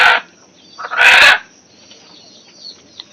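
A chicken being slaughtered for a Friday party meal lets out two loud, harsh squawks close by, one brief and one longer, followed by quieter rustling.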